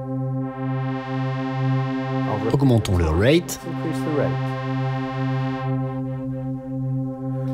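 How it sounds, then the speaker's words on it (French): A Novation Summit synthesizer holds a sustained, harmonically rich tone with an LFO-modulated reverb effect, swelling and shimmering while a voice speaks briefly in French partway through. "je vais changer cela en reverb level et y ajouter un peu de depth"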